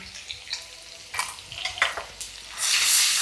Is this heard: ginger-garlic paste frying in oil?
yes